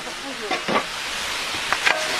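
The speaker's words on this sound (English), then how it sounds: "Just standing in the fumes, in the hiss of those stones, the meat juices." Meat juices hiss steadily on hot pachamanca stones in a Peruvian earth-oven cook, a constant close sizzle with a few brief louder spurts and faint clatter.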